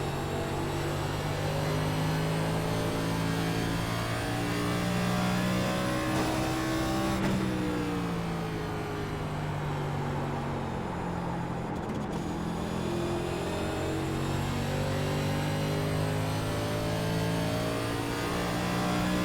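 A race car engine drones steady and loud in the iRacing sim, holding a high whine at speed with one brief lift around mid-clip before pulling again, no voices over it.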